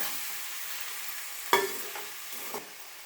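Chicken cooking in a pan in an Indian home kitchen, a faint steady sizzle with a sharp scrape of stirring and another softer stir a moment later, close and without talk.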